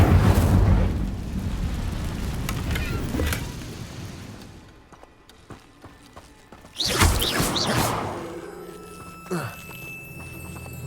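Whooshing bursts and crackling blasts of an Incendio fire spell in Hogwarts Legacy, loud game effects that fade into quieter ambience before another fiery burst.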